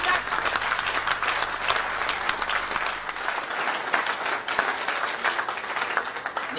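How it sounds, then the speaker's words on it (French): Sustained applause from a crowd at a public gathering in Cameroon, dense and steady clapping that holds loud throughout without pause. "applaudissons Paul Ella"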